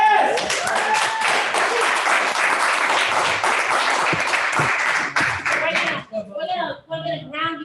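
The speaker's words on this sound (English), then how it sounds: "And I just, again, give you another round of applause." A live audience at a poetry reading in a bookshop co-op breaks into sustained, dense applause for about six seconds, then it thins to scattered claps with voices talking.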